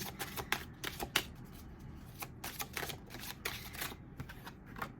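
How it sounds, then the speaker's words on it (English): Tarot cards are drawn from a deck, giving a run of light papery flicks and slides close by over a low background hiss. "Let me just pull the rest of the cards."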